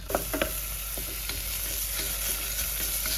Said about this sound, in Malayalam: സവാള ഇട്ട് കൊടുക്കുക. അതുപോലെ തന്നെ ഗ്രാമ്പൂ, പട്ട, സംഭവങ്ങളൊക്കെ